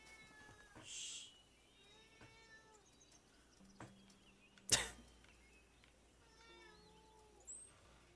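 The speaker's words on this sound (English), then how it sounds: "I'm hearing a cat." Several soft cat meows come from close by over a quiet background, broken once by a sharp, brief click or thump midway.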